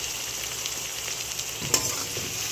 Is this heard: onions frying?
yes